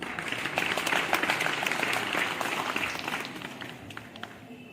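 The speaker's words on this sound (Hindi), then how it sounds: "तो आइए एक बार हाथ खोलकर जोरदार तालियां बजा दीजिए हमारे इस तिरंगे के सम्मान में।" An audience at a Republic Day celebration at Oriental College in Patna applauds to honour the tricolour flag, with steady, dense clapping that fades gradually toward the end.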